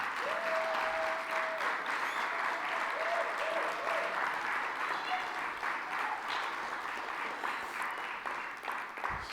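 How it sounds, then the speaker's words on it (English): A conference audience claps in a thick, sustained ovation that fills the room at an even loudness. A few voices cheer and whoop over the clapping early on. "Can we just put our hands together?"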